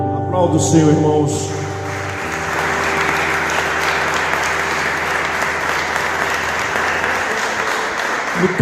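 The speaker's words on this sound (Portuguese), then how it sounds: "Aplauda o Senhor, irmãos." Applause from a church congregation during a deliverance worship service, a dense, steady wash of clapping that follows sustained music tones fading out early, continuing evenly at moderate loudness.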